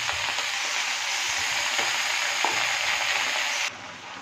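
Malabar spinach stalks and spices fry in a pan for a fish-head chorchori, a steady close sizzle with a few soft stirring knocks, dropping suddenly quieter near the end.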